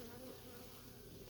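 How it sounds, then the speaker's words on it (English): Bees buzzing inside a hive sealed with propolis, a steady, low, continuous drone that stays quiet and even throughout, with no voices over it. "There's a bunch of bees in there."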